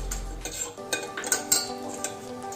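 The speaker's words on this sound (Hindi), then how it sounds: "और हमारा घी गर्म हो गया है, अब हम इसमें जीरा डालेंगे। मैंने 1/2 छोटा चम्मच जीरा डाल दिया है" Cumin seeds dropped into hot ghee in a pan for a Rajasthani gulab jamun curry, giving a light crackle with several short clinks and scrapes of a spoon against the pan, close and fairly quiet.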